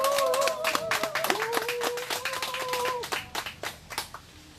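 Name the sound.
applause welcoming the committee chairman to the stage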